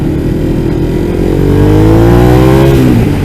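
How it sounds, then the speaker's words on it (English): A loud Ducati Monster 821 motorcycle engine revs up, its exhaust note rising in pitch, then drops off near the end; close and dominant. "that exhaust note is nice, I will say that."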